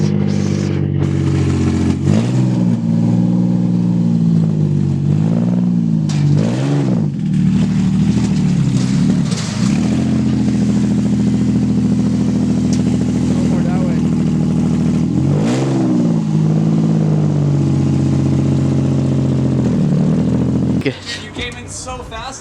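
Project drift car engine revving hard and continuously with rising and falling pitch sweeps, loud and close, with people talking over it and a brief burst of other noise at the end.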